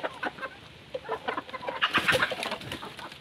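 Chickens cluck and squawk in scattered bursts nearby on a rural farm, growing busier and louder toward the middle, with no talking.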